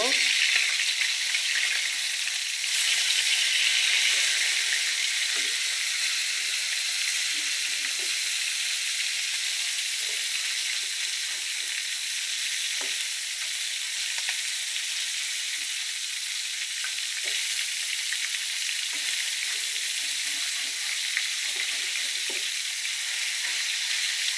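Fish frying in hot oil for a thin summer fish curry, a steady close crackling sizzle that runs unbroken throughout, with occasional louder pops and spatters.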